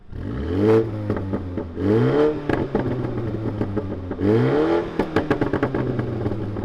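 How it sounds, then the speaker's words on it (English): A BMW M135i engine revved in repeated bursts, each blip rising sharply then falling back to a burbling idle, loud and close, with crackles between revs and no talk. "Rev up the BMW, let's have a listen to that."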